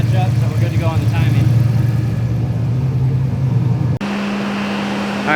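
A Foxbody Mustang V8 on a Holley Terminator X system runs at a steady idle, with a strong low engine drone throughout that shifts to a higher, smoother tone partway through. Faint talk sits under the engine.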